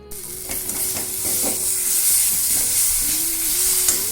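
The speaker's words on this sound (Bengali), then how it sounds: "মশলাটা আমার কষানো হয়ে গেছে" Spice paste of turmeric, salt, ginger paste, green chili, tomato and ground coriander-cumin frying in a pan, a loud continuous sizzle with repeated stirring scrapes, close up and without voices.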